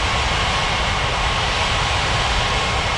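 A jet airliner in a flight simulation game rolls down a runway for takeoff, a steady loud broadband engine roar holding evenly throughout with no break.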